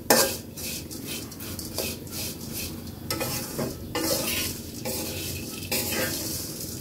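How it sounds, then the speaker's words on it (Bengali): Homemade pickle stirred in a pan during Bengali home pickle-making, with continuous scraping and clattering of a utensil against the pan over a steady sizzle, close and moderately loud, with no talk. "অনবরত নাড়তে হবে, তা না হলে পুড়ে যাবে।"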